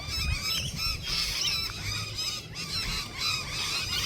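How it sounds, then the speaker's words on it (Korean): Wild pelicans or similar large birds on the Gold Coast, Australia, honk repeatedly while attacking one another, a steady mix of harsh calls and overlapping cries at close range over outdoor noise. "아니 다른 새들이 공격한다."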